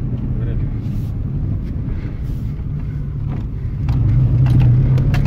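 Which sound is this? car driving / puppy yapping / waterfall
car driving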